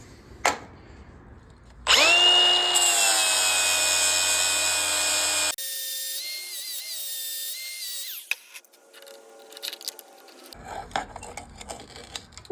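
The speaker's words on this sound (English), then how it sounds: "The only way to take it apart is to grind this out of here" A power tool grinds out part of a pulley while an off-road mini vehicle is being repaired, a loud sustained whine starting suddenly and changing pitch partway, then cutting off to quieter handling noises.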